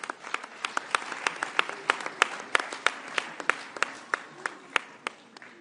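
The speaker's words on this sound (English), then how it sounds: "Let's give them a round of applause." A press conference audience with South African President Ramaphosa and EU leaders applauds steadily, dense clapping with sharp individual claps standing out, filling the whole stretch at moderate loudness.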